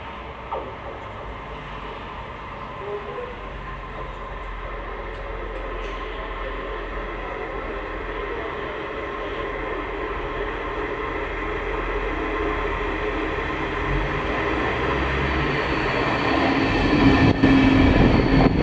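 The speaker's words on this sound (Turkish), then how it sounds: "şu an tren geliyor" A train rumbles closer near Selçuk, Turkey, its steady rolling noise slowly growing louder, with wheels faintly squealing near the end.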